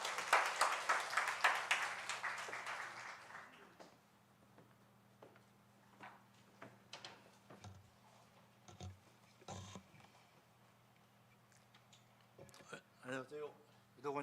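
A congregation at a gospel school graduation testimony event claps to welcome an elder to the front. A burst of applause lasts a few seconds and then dies away into a quiet room with faint speech and small sounds.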